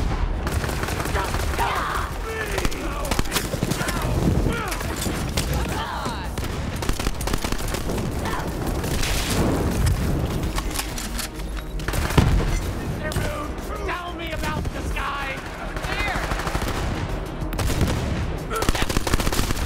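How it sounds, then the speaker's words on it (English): Combat in Borderlands 3 during the Tyreen the Destroyer boss fight, with rockets fired at the player amid dense continuous gunfire, repeated booms and explosions, and a voice talking over the din. "Somebody shooting rockets at me."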